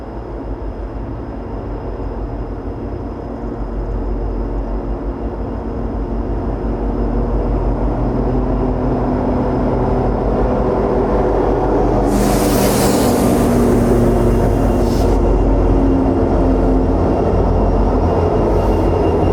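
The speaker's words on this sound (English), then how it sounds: "Today's train consists of 2 EMD-SD60Es and 14 cars hauling plate steel from ArcelorMittal and GONs from Coatesville" A freight train led by two EMD SD60E diesel locomotives hauling 14 cars of plate steel and gondolas passes on the Keystone Corridor, its heavy engine rumble swelling steadily and staying loud, with a brief hissing burst midway.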